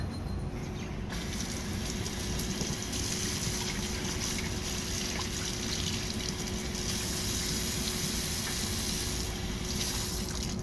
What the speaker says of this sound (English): Now again I will rinse it with water.